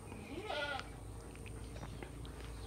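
A goat bleats once, a single wavering call at moderate distance over a quiet farm background with faint low hum.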